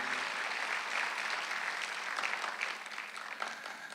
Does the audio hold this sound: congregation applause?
yes